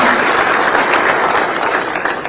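A crowd at an outdoor political rally in Kileshwa, Nairobi, applauds the President with a steady, loud wash of clapping and some cheering that holds throughout.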